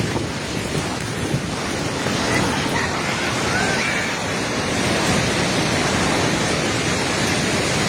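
A flash-flooded river in Rasuwa, Nepal roars in a loud, steady broadband rush that fills the whole scene, with wind buffeting the microphone and no clear talking.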